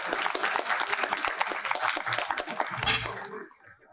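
Audience at a finance conclave applauds in a dense, steady burst of many hands clapping, sustained for about three seconds before fading quickly to near silence.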